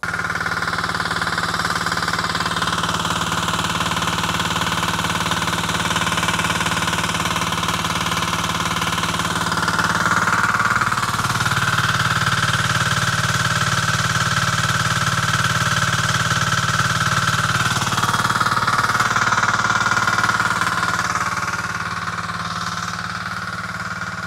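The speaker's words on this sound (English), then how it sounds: "I'm just gonna show that this thing's making power and just kind of show the engine running" A small 247cc, 5 hp diesel engine running on vegetable oil runs steadily up close, a continuous rough chugging hum with a slight rise in intensity midway and no talking.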